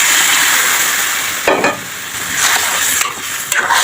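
Boiled lentils and coriander powder go into a hot, sizzling pan, with a steady fry hiss broken by a few scraping stirs and soft thuds of the spoon against the pan, close and without talk.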